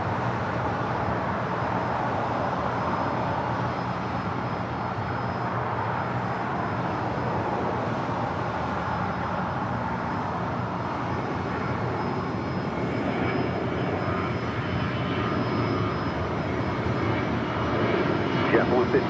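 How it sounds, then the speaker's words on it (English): A United Airlines Boeing 757-200 arriving at LAX from Newark gives off a steady, distant engine roar that holds evenly throughout. "This flight coming in from Newark, United Airlines Flight 2434, 757-200,"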